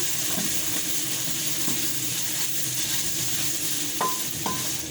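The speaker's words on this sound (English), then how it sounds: "garlic and ginger, I'm going to stir them again" Onions, garlic and ginger are stirred in a pan for vegetable biryani, making a soft scraping, sizzling sound with a couple of light clinks from the utensil near the end.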